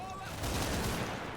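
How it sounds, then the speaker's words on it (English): A 75mm HE shell is fired at a gunner in the wartime video game Combat Mission, producing a dense, loud, sustained boom and rumble that fills the short moment. "That is Jeff von Katten putting a 75mm HE shell directly into this gunner"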